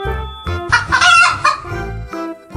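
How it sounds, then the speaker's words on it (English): A chicken clucks and crows loudly and up close, with short clucks giving way to a long, rising cock-a-doodle-doo and then more clucking. "Chicken and chick."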